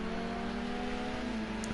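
A steady engine drone with a sustained tone comes from a racing car in a Silverstone International round of a racing game, heard at moderate level without speech.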